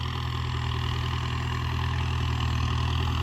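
A tractor engine used for road work runs steadily, a loud continuous low rumble with an even drone and no breaks or voices.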